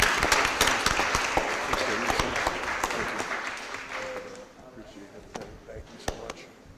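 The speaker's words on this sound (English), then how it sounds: "Let's give them one more big round of applause." Audience applause at a Board of Aldermen meeting, loud at first and then thinning into a few scattered, distinct claps as it fades.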